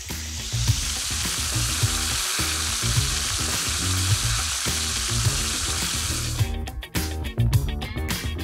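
Turkey breast searing skin-side in a cast iron pan, a loud continuous sizzle and crackle close up with low tonal hum beneath, breaking into choppier bursts near the end, no talking.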